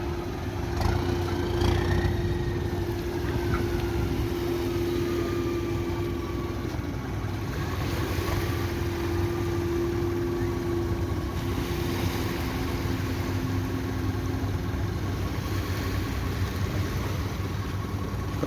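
A farm tractor engine drones on without a break while hauling a boat out of the sea at a beach, low and continuous, with a constant hum and some water or outdoor noise around it.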